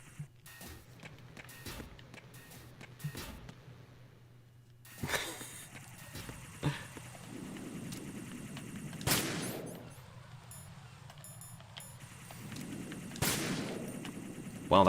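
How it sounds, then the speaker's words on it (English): Gunshots in a video game ring out as several sharp, loud cracks spread through the stretch, standing out over a constant low background hum and scattered game noises. "that dude really didn't hear the gunshot"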